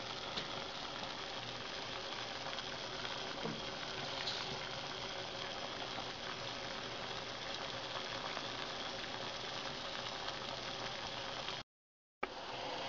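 Water, one cup, heats on a Choke Hazard 2 stove and starts to boil, a steady close hiss with faint bubbling and rumble that runs evenly and cuts out briefly near the end.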